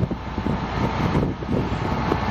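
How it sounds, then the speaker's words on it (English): Steady rushing wind buffets the microphone with a low, continuous roar, no voices, just a constant blustery hiss throughout. "It is a little breezy today, not terribly windy."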